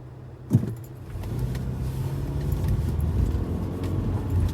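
A vehicle rolls past on a downtown street in Olympia, starting with a short sharp knock and then a rising engine rumble that stays steady and moderately close.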